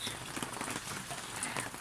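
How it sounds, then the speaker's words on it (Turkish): Rain falls steadily at a rural campsite where flatbread is being cooked, a dense, even hiss of drops pattering on surfaces, with no talking. "şöyle güzel bir yağmur havası var."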